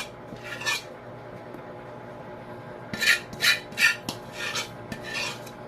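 Cabbage is stirred in a cooking pan with a utensil, giving scraping, rasping strokes, first a single stroke and then a rapid series of several close, fairly loud scrapes, with no talking.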